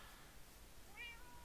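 A single short, faint meow from a video game cat rises briefly above a low hiss.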